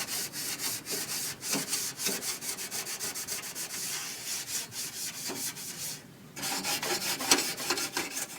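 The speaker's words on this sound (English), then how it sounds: "Now we're going to finish it off with a scuff pad." A drill-mounted scuff pad scrubs rusted metal on a 1966 Ford Mustang under restoration, producing a continuous harsh abrasive rasp that dips briefly and then resumes.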